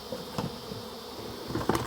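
Honey bees buzz steadily while being removed from a hive in a condemned building, with a continuous insect drone and a few louder swells as bees fly close.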